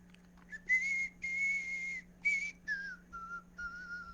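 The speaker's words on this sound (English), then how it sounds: "I won't get in trouble for whistling." A person whistles a short tune in clear, sustained notes with brief pauses between phrases, close and alone over a faint steady hum.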